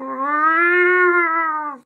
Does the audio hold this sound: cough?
no